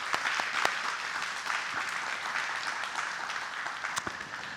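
A church congregation claps in thanks during a Sunday worship service, a dense, continuous wash of applause at moderate level with a few sharper individual claps standing out.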